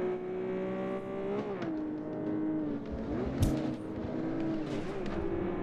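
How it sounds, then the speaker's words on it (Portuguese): A Porsche engine in a racing game holds a steady revving tone with gentle rises and falls in pitch, clear and continuous, with a short sharp burst partway through. "eu vou configurar o carro porque eu acho que tá pra drift essa minha Porsche"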